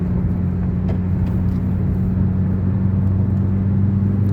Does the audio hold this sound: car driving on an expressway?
yes